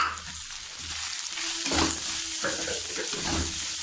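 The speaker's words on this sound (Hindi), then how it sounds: "अब हमने जो घर में मसाला तैयार किया था, अब हम उसे डाल रहे हैं इसमें" Homemade masala goes into vegetables cooking in a pan on a gas flame, bringing a loud, close sizzle with repeated stirring scrapes that rise and fall in short bursts.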